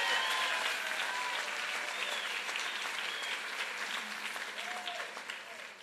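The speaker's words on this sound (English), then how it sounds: "I think we ought to give the President a big round of applause" Audience applause at a presidential roundtable discussion on jobs in Tampa: sustained, even clapping from a large room that gradually tapers off, with faint voices underneath.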